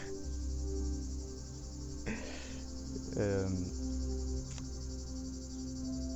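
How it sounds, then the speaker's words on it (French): Steady crickets chirp continuously in the background, a dense high-pitched trill, with brief murmurs of other sounds passing over it. "Vous entendez, il y a les grillons là, c'est super agréable."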